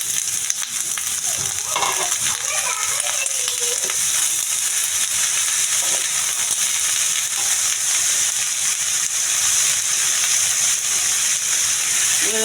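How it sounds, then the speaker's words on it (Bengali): Bottle gourd bhaji tipped into a hot pan fries with a steady, loud sizzle and hiss that holds throughout, with a few stirring scrapes near the start. "এবার আমি পুরোটা লাউ ভাজি ঢেলে দেব।"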